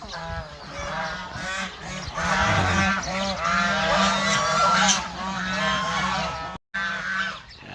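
A large flock of about ninety to a hundred ducks quacks and honks continuously at close range, a dense overlapping chorus of many birds calling at once.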